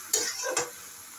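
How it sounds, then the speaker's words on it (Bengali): A utensil stirs coriander leaves in a sizzling frying pan, with two quick scraping strokes over a soft, steady sizzle. "ধনেপাতাটা দিয়ে এবার একটু নাড়াচাড়া করে"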